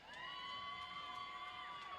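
Roller derby fans at a Coffin Draggers versus Brutal Beauties bout cheer and whoop together, a steady, loud crowd roar that holds for the full two seconds with no break.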